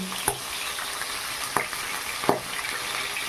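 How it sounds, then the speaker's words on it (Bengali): Pangasius fish pieces frying in hot oil in a pan give a steady, close sizzle, with a few sharp spatters and stirring clicks. "ততক্ষণে মাছ ভাজাটা হোক।"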